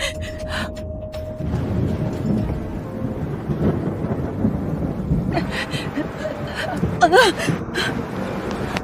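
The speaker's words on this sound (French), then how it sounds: "Il y a une tempête dehors." A thunderstorm rages outside, with rolling thunder rumbling over steady rain and a sharp crack of thunder near the end; a faint breathy vocal sound is briefly heard.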